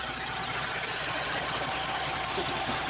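A car engine idling at normal operating temperature, heard as a steady, even mechanical hum with a faint rhythmic knock, quiet and continuous throughout.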